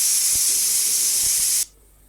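Steady, loud steam hiss from a pressure cooker whistle venting while mutton gravy cooks, a single sustained blast of about one and a half seconds that cuts off abruptly, leaving faint background.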